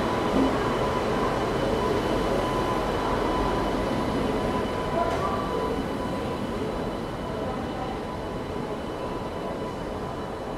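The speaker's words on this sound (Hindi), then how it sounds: "SCR यानी कि लालागुड़ा शेड का WAP7 लीड कर रहा है अपनी हमसफ़र को।" A Humsafar Express led by a Lalaguda shed WAP7 electric locomotive arrives, its steady broadband rumble and wheel roar filling the whole stretch at a fairly close, even loudness, with no talking.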